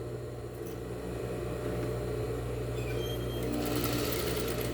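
A sewing machine stitches the braided border of a dish towel with a steady, fast mechanical whir, close and loud throughout, rising slightly in intensity partway through.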